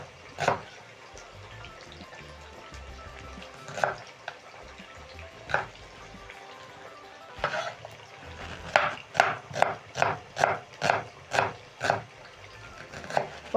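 A kitchen knife strikes a cutting board as three medium onions are cut into strips for sautéed potatoes, first in scattered single chops, then in a quick, even run of sharp taps near the end.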